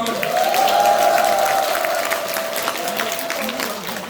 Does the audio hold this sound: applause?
yes